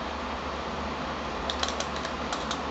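Light typing on a Redragon Dyaus 2 membrane gaming keyboard with a run of soft, quick clicks in the second half, over a steady background hum.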